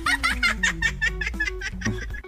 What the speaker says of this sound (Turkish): Bu şekilde bebek gülmesi.